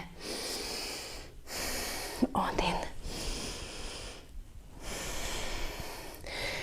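Heavy, audible breathing during a full-body fitness workout, long forceful exhales and inhales recurring in steady waves, close to the microphone, with a brief spoken word in between.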